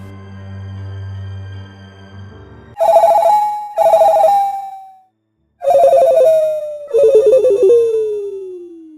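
An electronic telephone ringtone rings loudly in four repeated melodic bursts with short pauses between, following a quieter low hum.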